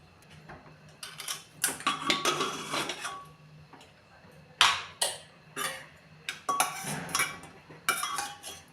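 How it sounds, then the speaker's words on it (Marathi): The lid of a cooled pressure cooker holding moong dal varan is opened, with a string of close metallic clanks, knocks and rattles coming in short irregular bursts. "आता आपण झाकण खोलून पाहूया"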